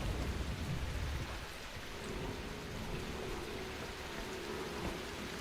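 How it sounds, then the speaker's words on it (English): Rain pours down with rumbling thunder inside the video game The Last Caretaker, a dense, steady hiss of falling water over a low rolling rumble, with no voices. "Is it raining? Sounds like it."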